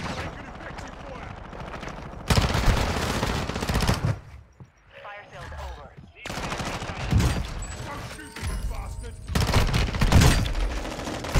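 Bursts of automatic gunfire crack loudly in a Call of Duty match, heavy sustained volleys broken by a short quieter pause, with voices talking over the shooting.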